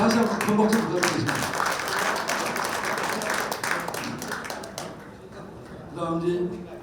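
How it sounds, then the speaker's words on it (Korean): Audience applause at a Masan Yongma High School centennial event and book-launch report meeting, a broad steady patter that fades after about five seconds before voices pick up again. "모든 분들께 다시 한번 큰 박수 부탁드리겠습니다"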